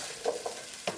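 Brief close sizzle of vegetables and peppers stir-frying in a pan, with two or three soft scraping strokes of a utensil over the steady hiss, no voices.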